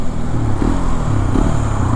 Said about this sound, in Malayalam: റെവ് മാച്ചിങ് ഒരു രക്ഷയില്ല കേട്ടോ ഈ ബൈക്കിൽ